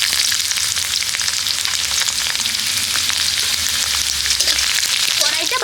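Chopped garlic cloves sizzle steadily in hot oil in a wok, with a dense, continuous crackling fry that stays loud and even throughout, without any talking.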